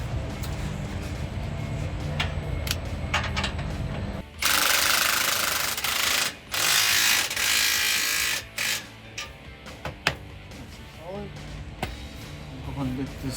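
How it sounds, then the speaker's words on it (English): A wrench tightens 15mm bolts on an exhaust clamp under a 2017-2022 Ford F-250 during an MBRP 5-inch filter-back exhaust install, with bursts of loud buzzing power-tool noise, clicks and someone talking nearby. "We're gonna clamp this one first and bolt down these 15mm bolts and go from there."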